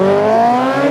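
An Audi RS4 wagon at a drag-style run, its engine note rising with tire squeal as the wheels spin on launch, loud and steady for a moment with no talk.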